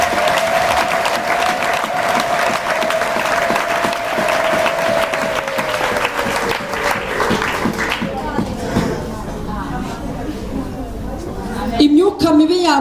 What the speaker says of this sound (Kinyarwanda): Imana yikomera amashyi cyane